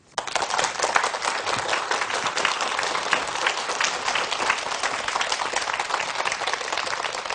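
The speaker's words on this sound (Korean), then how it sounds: "그래서 오늘 강의를 해주실 김금선 소장님을 큰 박수로 모시겠습니다" A lecture audience gives a big round of applause to welcome the speaker, a dense, continuous crowd clapping that starts abruptly and stays strong and even throughout without any voices.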